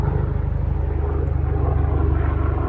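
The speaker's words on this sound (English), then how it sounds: "We got an airplane, helicopter." A propeller aircraft or helicopter flies close by, its engine drone loud and steady with an even pulsing throb that holds for the full few seconds, with no voices.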